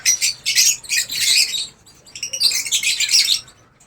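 An African bird calls in bursts of bright, high chirps and tweets, close and fairly loud, with a short pause between two rapid runs of notes.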